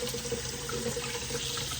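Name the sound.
cold tap water running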